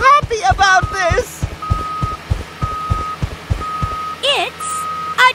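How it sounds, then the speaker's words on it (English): A large tanker truck backs up with a regular series of reversing beeps under its engine, a heavy rhythmic thumping pulse, while a voice briefly speaks and animated chirps cut in. "It's a tanker truck!"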